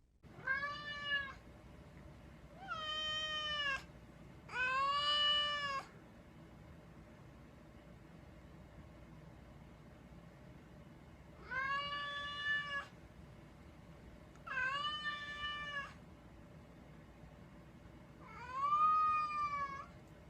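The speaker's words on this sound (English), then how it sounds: "This cat couldn't find its owner, who was hiding under the blankets, and started crying." A cat meows and cries again and again, six drawn-out plaintive calls spaced a few seconds apart, close and clear over a low steady background hum.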